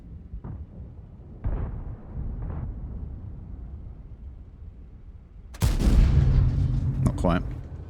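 Tank cannon fire in World of Tanks, a sharp loud boom bursting out near the end after a stretch of quieter gameplay noise with a couple of softer thuds earlier.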